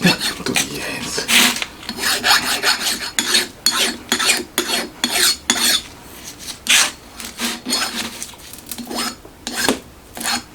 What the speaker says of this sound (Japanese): あとはここをヤスリできれいにして